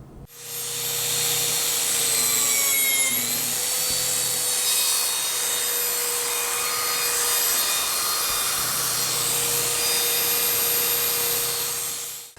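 A biscuit joiner spins up with a high, steady motor whine and plunges into a wooden shelf to cut a slot. The loud, continuous whir lasts several seconds before winding down, heard close up with no talking.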